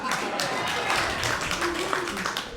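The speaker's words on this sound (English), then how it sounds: "Give yourselves a round of applause for spending Friday night in a comedy club instead of church." Comedy club audience on a Friday night clapping and cheering in a steady, dense wash of applause, loud and close throughout with crowd voices mixed in.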